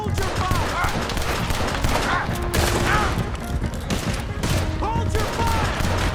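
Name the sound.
gunfire in the video game Red Dead Redemption 2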